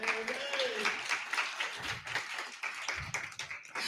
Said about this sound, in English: Clap it up for her.